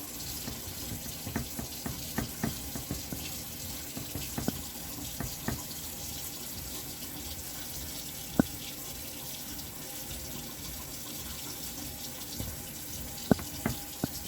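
Tap water runs steadily into a sink or pot for a ham bone lentil soup, a soft continuous rush broken by occasional clinks and knocks, quiet and heard without talk.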